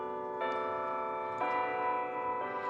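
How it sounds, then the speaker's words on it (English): Nearby church bells ring out in a quarter-hour chime, three evenly spaced tolling strikes about a second apart, each with a sustained, overlapping ring. "I'm grateful that I live near church bells."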